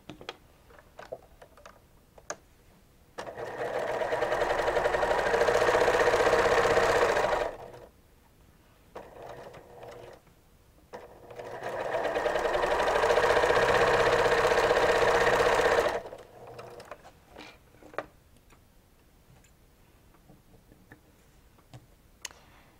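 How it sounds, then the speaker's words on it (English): A sewing machine stitches the outer edge openings of a Christmas stocking in two steady runs of about four and five seconds each, with a pause between and quiet handling noise around them, no talk. "I'm going to stitch the openings on the outer edges."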